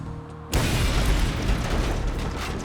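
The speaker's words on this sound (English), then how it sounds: "The explosion was ferocious" A sudden, ferocious bomb blast from a wooden-block device with nails erupts out of quiet, a loud broadband boom that stays dense and rumbling to the end.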